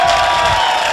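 A crowd cheering in the village of Ahaskra, a loud, dense roar of many voices, brief and continuous at close range.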